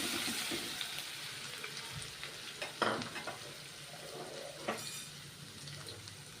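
Whole cumin seeds, asafoetida and crushed ginger-garlic paste sizzle in hot oil in a pan, a steady frying hiss with sharper crackles and stirring knocks rising as ingredients are added, with no talking.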